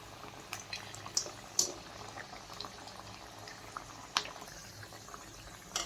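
Cutlets made from leftover chapati fry in hot oil, a soft continuous bubbling sizzle with a few sharp crackles and pops scattered through it.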